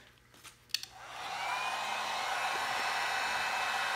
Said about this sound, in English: hair dryer will not work, but the old Kawasaki heat gun or heat gun